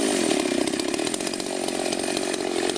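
Chainsaw engine mounted on a homemade bicycle, running steadily with a loud, buzzing drone and a constant rattling pulse, no talk over it.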